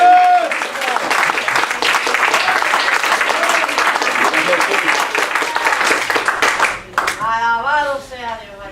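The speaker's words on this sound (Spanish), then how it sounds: "¿Cuánto le da un aplauso al Padre?" A church congregation claps loudly and continuously near the start of a sermon, dense and sustained, then the clapping fades toward the end as a preacher's voice and worship singing rise over it.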